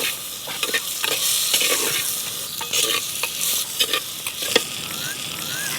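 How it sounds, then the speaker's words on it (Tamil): Papaya stirred and lightly sautéed in a hot pan, a steady sizzle broken by repeated scraping and clattering strokes of a spoon, close and fairly loud with no voices. "இப்போ நம்ம பப்பாளியும் போட்டு லேசாக வதக்கிட்டோம்."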